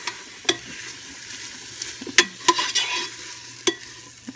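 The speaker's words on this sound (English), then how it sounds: "Now I got my sausage frying and I'm checking on it." Sausage sizzling and frying in a pan, a steady crackling hiss broken by a few sharp pops and stirring clicks, close up and alone with no talk.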